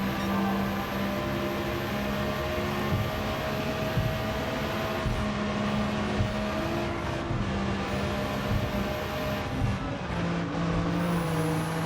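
A small truck with under 150 horsepower drives in Gran Turismo 7. Its engine holds a steady, loud hum with gear changes and pitch shifts along the way, heard alone throughout.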